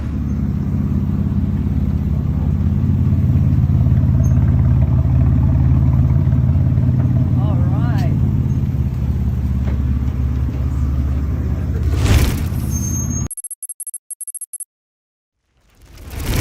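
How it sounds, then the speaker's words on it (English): A concept car's engine roars loud and steady at close range for about thirteen seconds, with a brief spoken word, before the sound cuts out abruptly. "this is a concept car that sounds like that."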